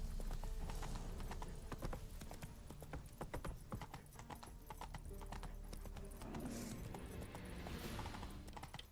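Roach the horse trotting down a road in a video game, steady rhythmic clip-clop of hooves with creaking tack and faint background ambience, no talking.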